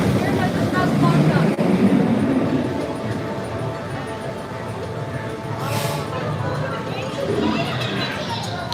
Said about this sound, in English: You can actually see the train pulling into the station area.